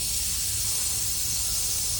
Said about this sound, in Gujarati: હવે ઢાંકણ બંધ કરીને એક વિસલ વગાડી લઈશું